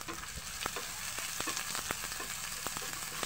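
Chopped onions fry in a pan, with a steady close sizzle and scattered sharp pops and crackles throughout. No voices.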